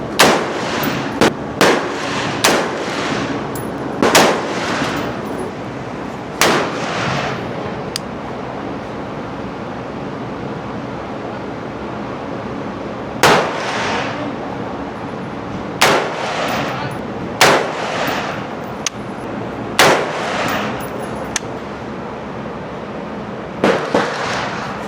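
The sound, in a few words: pistol gunshots at an outdoor shooting range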